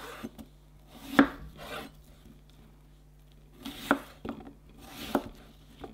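A knife cuts cucumber into sticks on a board in three separate bursts of crisp slicing and rubbing strokes, close and fairly quiet, with pauses between cuts.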